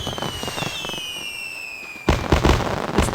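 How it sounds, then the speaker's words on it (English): Game fireworks from Sky: Children of the Light, a bright whistling launch tone sliding across the first two seconds, then a sudden dense burst of crackling, popping sparkle that stays loud to the end. "You can direct the direction of where the fireworks go by tapping and dragging"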